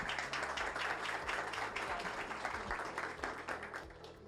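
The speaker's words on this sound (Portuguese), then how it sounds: "uma salva de palmas para ela, por favor." An audience at a talk breaks into applause for a speaker, a quiet, steady wash of many hands clapping, heard from a distance with a low hum beneath it.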